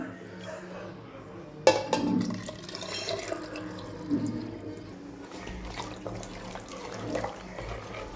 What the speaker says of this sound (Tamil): குழம்புக்கு தேவையான தண்ணியை ஊற்றிக்கலாம் இதில் கழுவி மிக்ஸ் பண்ணிக்கலாம்